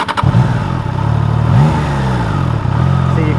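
A Triumph Tiger 660 motorcycle engine idling with the throttle blipped, giving a steady low rumble that rises in a brief rev and settles back to idle, close and loud.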